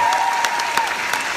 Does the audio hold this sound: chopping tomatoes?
no